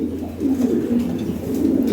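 Pigeons coo steadily in low, throaty rolling calls, overlapping and continuous, fairly close with no voices.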